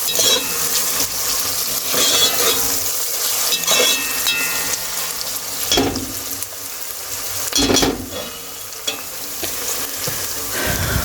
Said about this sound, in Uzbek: O'zimizga esa jigar qovuraman qizlar.